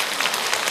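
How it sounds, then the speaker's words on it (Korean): A lecture audience breaks into applause for a priest's talk, a brief burst of dense, crackling clapping heard at moderate distance. "저한테 박수 치지 마세요."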